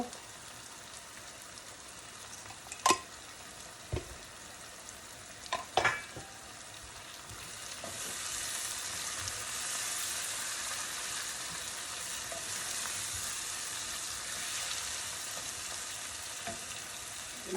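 Spices and dried fish frying in a pan with chili and ground coriander-cumin, a steady soft sizzle that grows louder after a few sharp stirring clacks early on, with no talk over it.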